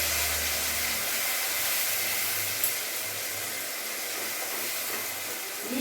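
A paste of mustard, poppy seed and coconut fries in oil with a loud, continuous, even hiss that holds steady throughout, close by.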